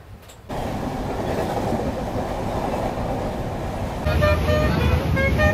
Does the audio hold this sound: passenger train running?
yes